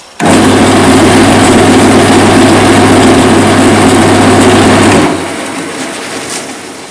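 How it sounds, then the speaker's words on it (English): Wood lathe switched on to polish a turned pen, starting abruptly into a loud, steady motor hum with a broadband whir, running close for about five seconds before cutting off and winding down. "I'll turn on the lathe just to polish it up with that"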